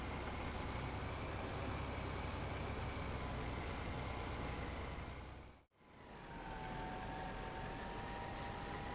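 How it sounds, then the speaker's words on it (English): Small tractor engine straining as it climbs a hill in a farming video game, a steady, dense drone that dips briefly to near silence midway before resuming just as loud. "This little tractor's not very happy about climbing this hill."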